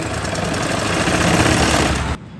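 A sewing machine stitches the border of a Padmavati Ghoomar-style bridal lehenga, its motor giving a dense, steady mechanical whir close by for about two seconds before it cuts off abruptly.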